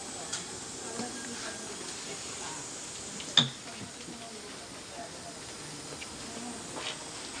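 Air hisses steadily from a leaking tire in a tire-sealer repair setting. The faint, continuous hiss runs throughout, with one sharp click partway through.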